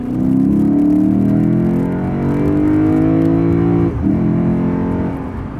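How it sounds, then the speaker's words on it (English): A 2020 Lexus GS F with its V8 engine accelerating: a loud, steady, deep engine drone that climbs in pitch, dips briefly as the gear changes, then pulls on strongly, heard from inside the cabin with no talk. "The engine has a nice V8 tone"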